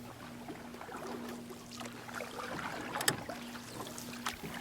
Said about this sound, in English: they paddled and paddled until they came to the end of the pond